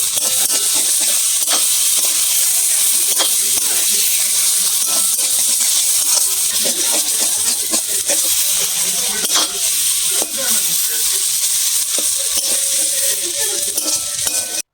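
Potatoes frying in hot oil in a kadai while being stirred: a loud, continuous sizzling hiss with scattered scraping and clattering stir strokes throughout.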